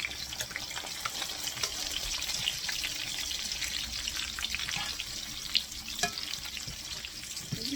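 Pork schnitzel pieces frying in a pan give a steady, bright hiss and crackle of hot fat that runs evenly throughout, close and moderately loud with no talking.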